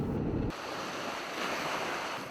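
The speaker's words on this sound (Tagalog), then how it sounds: "Inaabangan ng mga residente dito ang malalaking alon sa kanilang dalampasigan" Broad steady surf wash from waves on the beach at Luna, a continuous hissing roar with gusty wind noise over the microphone after a brief low rumble at the start.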